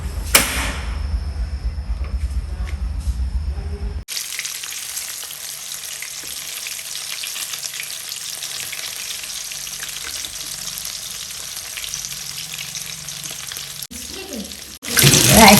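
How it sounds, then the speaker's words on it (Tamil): Chicken pieces for sweet and sour chicken deep-fry in hot oil with a loud, continuous crackling sizzle that starts abruptly and holds steady up close, followed by a brief louder burst at the end. "நாங்கள் இப்போ இதை திரும்ப பொரிச்சு கொள்ளுவோம்."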